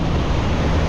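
Choppy open sea heard from a small boat under a dark sky: a steady wash of waves and rushing wind noise, loud and close, with no talking.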